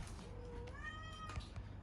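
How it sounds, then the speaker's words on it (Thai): A cat meows repeatedly after falling into a product box it cannot climb out of, a few rising and falling cries close by over a steady low background hum. "แมวตกในกล่องนะครับกล่องสินค้า แล้วลงไม่ได้ครับก็เลยวายวาย"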